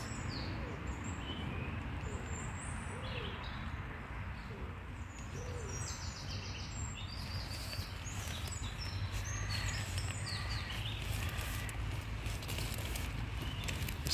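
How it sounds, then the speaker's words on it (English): Birds call and chirp faintly in Victoria Park, Waterloo, Liverpool, on a damp winter day, their short high notes scattered over a steady low outdoor rumble. "Listen to the birds."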